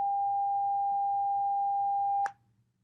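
A steady pure sine-wave tone at 800 hertz, doubled from an earlier pitch, holds loud and unbroken for over two seconds against a faint low hum, then cuts off abruptly with a brief click.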